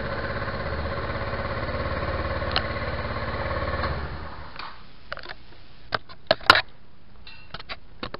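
A Suzuki AN125 motorcycle with a faulty electric start, its starter motor wired straight to the battery, runs with a steady close-up engine drone for about four seconds before cutting out, followed by scattered sharp clicks and taps.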